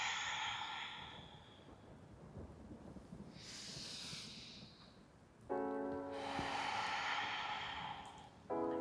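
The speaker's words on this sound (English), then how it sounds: "Same thing, breathing in, opening up, and exhale." Slow, audible exhales during a diaphragmatic breathing exercise for posture, soft airy breaths rising and fading at close range, with a few sharper noises later on.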